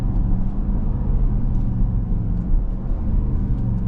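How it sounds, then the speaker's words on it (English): A 2025 Dodge Durango R/T engine running through upshifts, heard as a steady low rumble from inside the SUV with mild rises and dips in pitch and no talk over it. "Nice and smooth on the upshifts."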